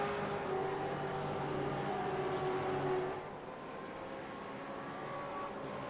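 Race cars lapping Road America in a sim racing game: a steady, muffled engine drone from a pack of cars holds evenly, then drops to a quieter hum partway through, with no talk.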